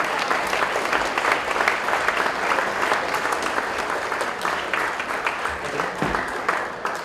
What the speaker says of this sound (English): A round of applause for Kankakee Valley.